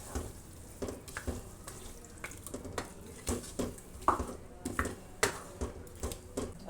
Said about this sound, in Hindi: अब इसमें हम क्रीम डालेंगे।